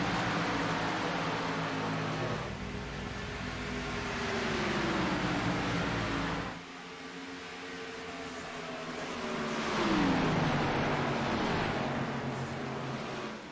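Race cars in a NSRL Grand National Series race at Pocono Raceway roar past in waves, engine pitch sliding down as they pass, loud throughout with a brief dip before another swell.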